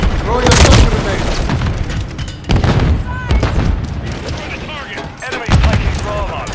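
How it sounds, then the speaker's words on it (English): Several loud booming blasts punctuate a video game match, each burst followed by ringing tails, with gunfire and voices talking between the explosions. "Throw your stun grenade!"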